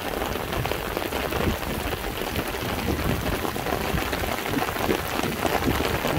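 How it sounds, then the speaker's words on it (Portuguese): Heavy rain in northern Minas Gerais pours down steadily and loudly throughout, a dense continuous roar of water on the ground and pavement with no distinct thunderclap standing out. "E tá chovendo e vai chover mais."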